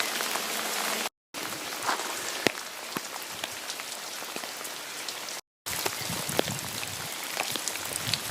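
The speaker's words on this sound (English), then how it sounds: "It's obviously been a very heavy downpour." Heavy rain pouring down in a dense, steady hiss of drops on the ground and nearby surfaces, with a few sharper drips standing out, broken by two brief silent gaps.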